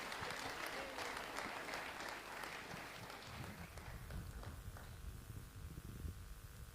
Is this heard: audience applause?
yes